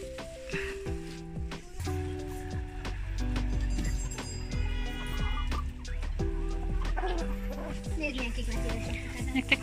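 Hens clucking and calling in a farmyard pen while being thrown greens, with several overlapping bird voices close by, a steady low background rumble and occasional knocks throughout.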